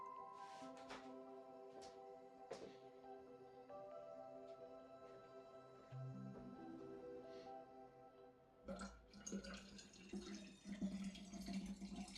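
Water runs from a tap into a vessel for a refill, a soft rushing stream that starts partway through after some quiet tonal background sound.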